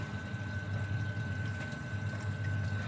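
Pumps on a Red Sea Reefer 250 reef aquarium run after a water change, with a steady low hum, a faint tonal whine and continuous water flowing and trickling.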